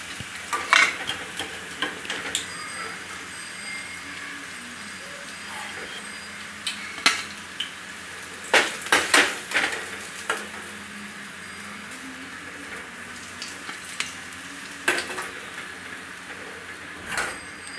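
Taro leaf rolls deep frying in hot oil until golden brown, a continuous close sizzle broken by sharp clinks and scrapes as the pieces are stirred and lifted out, no talking.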